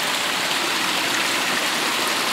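Water rushes steadily through a micro-hydro weir, a constant loud broadband roar with no pauses, close to the flow.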